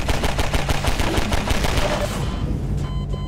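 Rapid automatic gunfire from a weapon in the video game Half-Life 2: Episode Two, a dense rattling burst of evenly spaced loud shots that stops abruptly near the end, leaving a fading echo.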